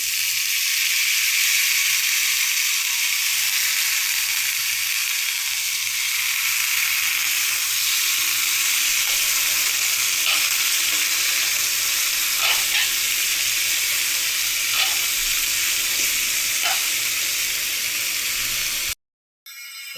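Cut potatoes go into hot oil with onion and green chili and fry with a loud, continuous hiss and sizzle. Occasional stirring scrapes break through, and the sound cuts out briefly near the end.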